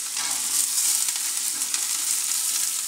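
Carrots, celery, onions and garlic sauté in a little oil for a vegan ramen soup. The bright, close sizzle runs steadily, with a few faint stirring scrapes and no voices.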